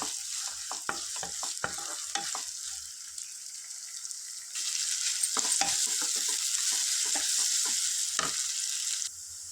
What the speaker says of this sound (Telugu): వీటిని ఫ్రై చేసుకుందాం ఒక టూ మినిట్స్ ఫ్రై చేసుకున్నాక